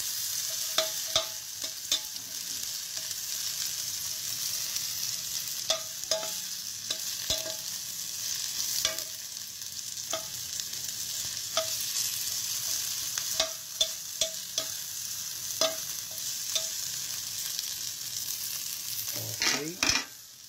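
Chili, tomato and hotdog sauté in a hot pan for ginataang papaya, giving a continuous close sizzle broken by repeated sharp clinks and scrapes of a spatula stirring.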